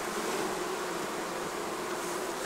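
Buckfast honeybees buzz steadily during a hive inspection, a dense close swarm hum that holds at an even level throughout with no voices.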